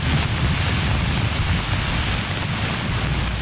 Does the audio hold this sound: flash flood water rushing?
yes